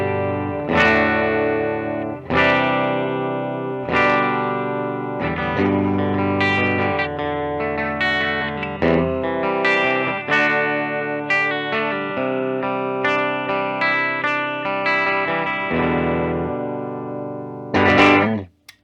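A 2014 Gibson DJ Ashba signature electric guitar on its bridge pickup plays heavily distorted, sustained chords and riffs with effects, loud and alone, each strike ringing out for nearly twenty seconds.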